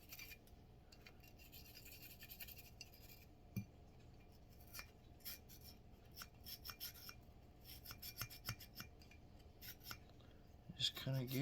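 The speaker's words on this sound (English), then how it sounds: "Just kind of get everywhere you can get with your brush." Quiet, close scrubbing and rasping of a brush working over Browning High Power Model 69C 9mm pistol parts, coming in repeated short strokes with small metallic scrapes and a few louder bursts near the end.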